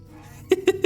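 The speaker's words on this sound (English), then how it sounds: "Oh, the geese are there. Those are the 3 rascal geese that were making trouble," Three quick, loud geese honks in the video game Lord of the Rings Online, evenly spaced and close, following a brief quieter stretch.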